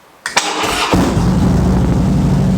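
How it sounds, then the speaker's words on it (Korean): A 2017 Harley-Davidson Dyna Street Bob fitted with a SuperTrapp full-system exhaust cranks briefly, then catches and settles into a loud, close, steady V-twin idle rumble with no talking. "시동을 걸어서 슈퍼트랩 풀시스템 머플러의 배기 사운드는 어떤지"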